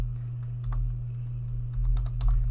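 Typing on a computer keyboard while entering input into a running program: a quick, irregular patter of light key clicks over a steady low hum, close and clear.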